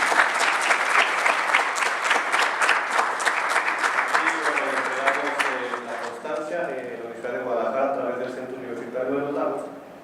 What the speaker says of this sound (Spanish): le brindamos un fuerte aplauso al doctor